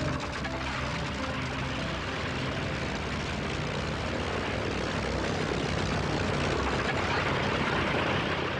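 WWII propeller fighter planes such as Mustangs and Thunderbolts at a Sicilian airfield, a loud, unbroken engine roar with propeller drone holding steady and close throughout, no voices.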